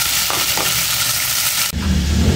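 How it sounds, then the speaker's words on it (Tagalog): Ham frying in a hot pan of oil crackles with a loud, continuous sizzle, with a few stirring scrapes, then a sudden shift to a heavier, rougher sizzle near the end. "Ilalagay ko na tong ham at mainit yung kawaling ng mantika."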